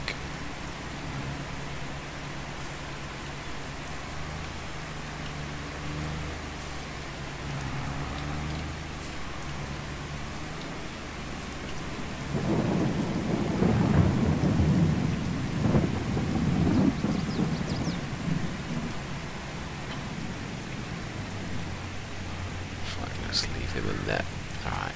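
Rain falls steadily with rolling thunder in a Farming Simulator 22 game, a loud rumble building through the middle before easing, while someone talks over the storm.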